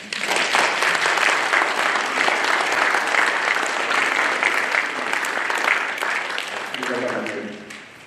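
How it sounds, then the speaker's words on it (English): An audience at a school certificate and prize ceremony applauds students, a dense, steady burst of clapping that holds for several seconds and then fades, with a voice briefly audible near the end. "Let's give these students a big round of applause."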